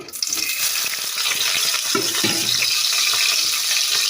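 Coriander leaves frying in white soybean oil in a wok give a steady, loud sizzling hiss throughout, with faint stirring clatter and no talking.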